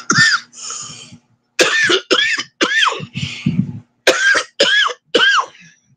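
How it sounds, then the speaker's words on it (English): Repeated coughing fits, loud and close, with throat-clearing between bursts; about a dozen harsh coughs in uneven clusters, no talking. "I don't even know why I'm coughing."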